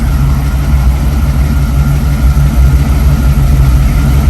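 A 1957 Chevrolet pickup engine runs at a loud, close, rumbling idle, a steady low throb that continues evenly with no voices.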